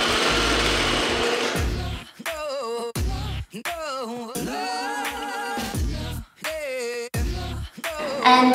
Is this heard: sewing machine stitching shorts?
yes